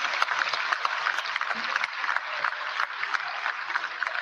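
Members of a national assembly applaud the Speaker's remarks during a budget presentation, a dense, sustained round of many hands clapping from a large hall, fairly even in loudness with no talk over it.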